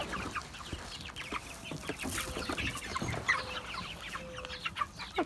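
Several Brahma chickens cluck and chatter up close at feeding time in a mixed-age backyard flock, with steady clucks over a busy farmyard background and no talking.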